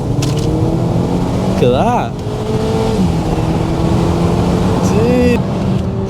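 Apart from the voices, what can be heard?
Seat Leon FR accelerating hard while downshifting gears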